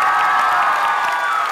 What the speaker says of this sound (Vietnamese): một tràng vỗ tay nồng nhiệt